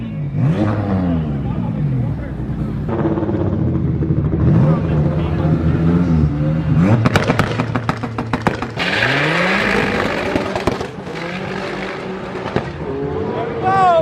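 A V6-swapped Honda Civic drag car, built to about 842 wheel horsepower, roars loud and close, its engine pitch sweeping up through repeated gear changes with harsh bursts and crackles toward the end.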